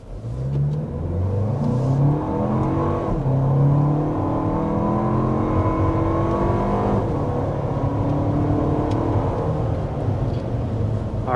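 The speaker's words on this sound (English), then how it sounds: "But first, we need to start with a hard acceleration." A Lexus TX 350 three-row SUV accelerating hard to 60 mph, its engine note climbing steadily through the gears with brief dips at shifts, heard from inside the cabin as a loud continuous drone with no talking.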